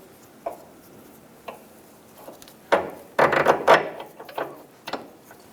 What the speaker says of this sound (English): Use an 18mm wrench to hold the back of the sway bar link, while using an 18mm socket to snug down the nut.